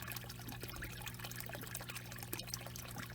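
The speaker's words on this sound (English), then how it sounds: "I just opened up the bottom plug and just let all the other water drain out." Pond water drains out through an opened bottom plug, a soft, steady trickling and pouring heard faintly and continuously with no talking.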